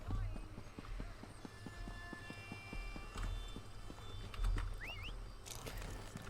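Horse hooves clip-clop steadily at a trot through a town in Elder Scrolls Online, the rhythmic clatter continuous and fairly close, with a voice talking over it and a brief bird-like chirp.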